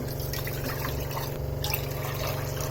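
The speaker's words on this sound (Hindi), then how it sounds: "आपको एक गैस पे पैन चढ़ाना है। इसके अंदर में आपको डालना है अभी 2 कप पानी।" Two cups of water pour steadily into a pan on a gas stove, a continuous close trickling splash with no talk over it.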